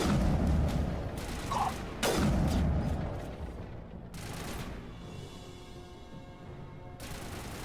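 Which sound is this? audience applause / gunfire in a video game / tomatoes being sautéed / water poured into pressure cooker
gunfire in a video game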